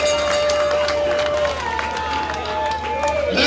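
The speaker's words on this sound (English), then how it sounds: "one more round of applause for His Excellency, President Julius Malema." A crowd at a political speaking event breaks into loud, sustained applause and cheering, a dense wash of clapping and voices filling the space, with a tonal whistle or feedback line running through it.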